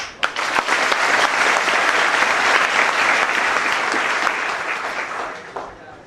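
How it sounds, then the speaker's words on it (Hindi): An audience bursts into applause during a talk at an anti-firecracker campaign event, loud dense clapping that starts sharply, holds steady for several seconds, then thins out toward the end. "आपकी तालियों से मेरी आंखों में पानी आया।"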